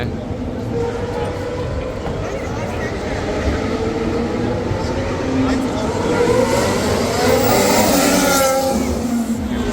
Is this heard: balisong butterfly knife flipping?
no